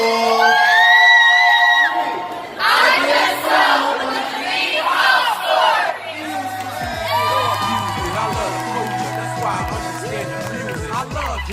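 A crowd of teenagers at a Family Center youth event cheers, whoops and shouts loudly and continuously, close and dense, with brief tonal music sounds partway through.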